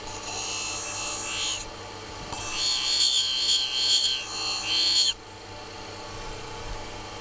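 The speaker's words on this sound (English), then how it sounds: "And I've got a buffing compound here." A rusty woodturning tool, a half-inch spindle gouge, being buffed with buffing compound on a spinning wheel, a steady whirring hum with a loud high-pitched squealing rasp while the steel presses on, which cuts off abruptly.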